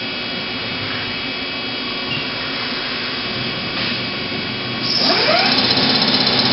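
A 1986 Mazak QT20N CNC lathe running in gear 1 at 1200 RPM, giving a steady loud mechanical whir with a high whine. It grows louder and rougher near the end.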